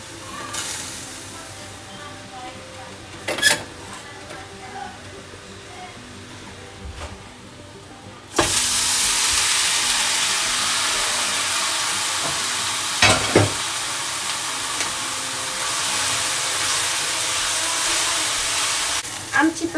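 Sautéing chicken and shiitake are moved from a small frying pan into a large one, starting with quiet scrapes and taps before a loud, steady sizzle suddenly swells up and carries on close by, with occasional clinks over it.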